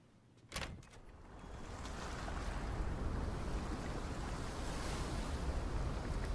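Ocean waves wash in a continuous, full roar with wind noise, preceded by a sharp crack near the start, with no voices over the surf.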